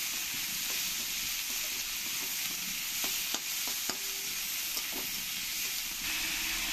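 Finely chopped onions sizzle and fry in hot oil with dried chillies for a Bengali rohu fish curry, a steady broadband hiss with scattered crackles and a few spoon stirs, close and continuous with no talk.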